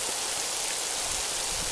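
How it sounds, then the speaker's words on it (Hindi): Monsoon rain falls steadily on a mountain trek in Uttarakhand, a dense, even hiss of drops close around the listener with no break and no voices. "बारिश पड़ी रही है अभी"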